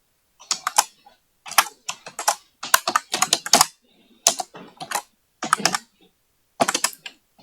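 Fingers type on a computer keyboard to enter text in Photoshop, close bursts of quick key clicks separated by short silent pauses.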